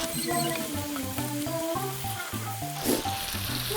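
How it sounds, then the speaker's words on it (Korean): Sliced garlic stir-frying in a pan for aglio olio gives a soft sizzle under bright sustained musical tones that dominate the scene, with no voices. "이제 열심히 볶아줍니다"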